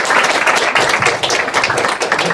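Lecture audience clapping at the close of a talk on rejecting university, dense steady applause filling the whole stretch at close range with no speech over it.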